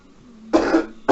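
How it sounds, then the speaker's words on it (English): Two sharp, close coughs from one person, the first longer and the second a short burst, following a low hum. "We got a bit of a cough this morning."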